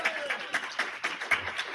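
A live podcast audience at PAStAHcon in Harrisburg gives a short round of scattered clapping, moderately close, with faint talk mixed in.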